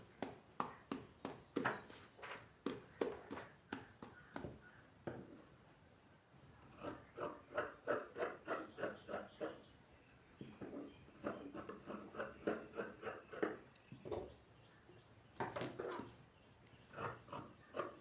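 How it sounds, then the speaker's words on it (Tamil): Scissors snip through chudidar pant fabric in quick repeated crisp cuts, a steady rhythm of close, fairly quiet snips with brief pauses, no talking over them. "இத நம்ம அழகா கட் பண்ணி எடுத்துக்கலாம்."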